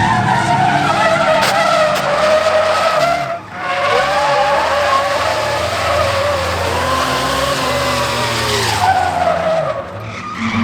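A hotrod drift car spins its tyres in loud, sustained squealing bursts over a revving engine, the screech dropping briefly before surging again and carrying on almost without pause.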